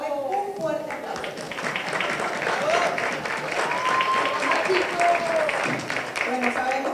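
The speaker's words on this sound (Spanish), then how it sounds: "vamos a darle un fuerte aplauso" An audience applauds at a live event honoring a Mexican NASCAR driver, with steady, dense clapping running throughout and voices and cheers rising over it.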